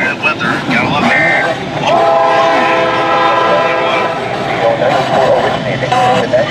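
A train rolls past during stormy weather in Ohio, its horn sounding in long sustained blasts through the middle of the clip over a steady rumble, with a voice talking at times.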